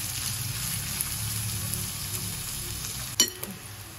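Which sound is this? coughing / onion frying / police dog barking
onion frying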